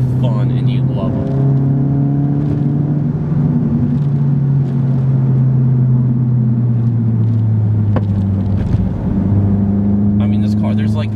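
Volkswagen GTI engine droning steadily as it drives along back roads, a continuous loud interior hum with shifting pitch as revs rise and fall, under occasional talk.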